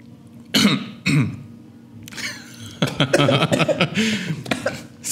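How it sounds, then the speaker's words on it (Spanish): Coughing and throat clearing after a sip of strong FIREBOMB herbal liqueur: two sharp close coughs, then a longer stretch of spluttering mixed with chuckles and talk. "es para que te dé tos"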